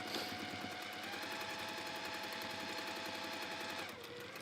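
A sewing machine stitches steadily around a scrappy log cabin quilt block, its fast even whir running close and unbroken for several seconds before easing toward the end.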